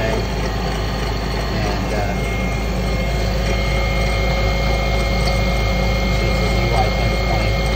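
An inexpensive replacement motor on an upgraded Harbor Freight mini mill runs with a steady, continuous hum and drone, and a person talks over it throughout.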